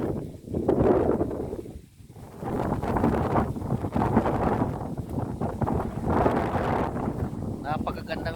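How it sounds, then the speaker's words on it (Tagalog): Strong wind roars and buffets the microphone on a hillside nature hike in Barangay Adlaon, Cebu City, in loud irregular gusts with brief lulls, while a person talks beneath it. "Napakalakas ng hangin guys, oh."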